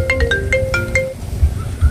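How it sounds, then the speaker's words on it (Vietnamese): A mobile phone rings loudly nearby at a riverside landslide site, its short melodic ringtone playing a quick sequence of tones over steady outdoor background noise. "Mình có cái điện thoại."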